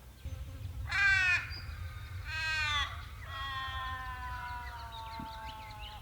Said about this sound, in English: Hear those two ravens communicating across the water?